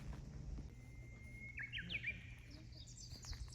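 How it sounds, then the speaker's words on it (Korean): Birds chirp in a quiet, peaceful garden workspace beside a cafe guesthouse on Awaji Island, Japan: a brief bright trill at mid-distance over a low steady background hum, with fainter high tweets following. "와 새소리도 좋은데?"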